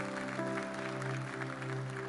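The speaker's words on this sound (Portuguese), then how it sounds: "Dê um aplauso aí ao Senhor." Church congregation applause at a Sunday service, fairly faint and steady, with a sustained organ or keyboard chord humming beneath the clapping.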